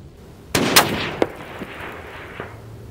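A single sharp crack from a Mauser 30-06 sporter rifle firing a 178 grain round, outdoors, followed by a rolling echo and a few faint later pops as it trails away.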